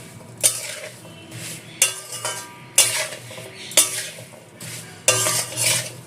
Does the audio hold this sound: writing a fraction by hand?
no